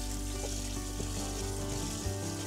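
Tap water runs in a steady, even hiss as chili peppers and garlic are rinsed, with no voices over it.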